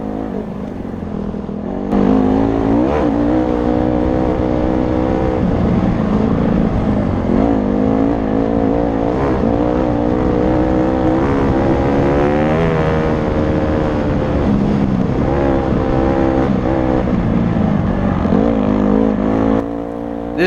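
A dirt bike revs hard along single track through sand in a Badlands canyon wash near Lyman, Wyoming. The engine note rises and falls steadily and stays close and loud for the whole ride, with no talking.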